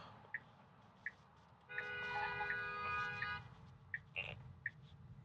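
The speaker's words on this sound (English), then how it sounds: "why is that guy honking?" Car horns honk in traffic during a Tesla FSD drive: several short distant toots, then a longer held blast, followed by more brief honks over low road rumble inside the car.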